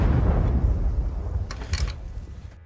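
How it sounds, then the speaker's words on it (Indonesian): A loud, deep rumbling boom from a plane crash rolls through and slowly fades, leaving a faint crackle at its tail. "Mendengar suara dentuman keras jauh di belakangnya"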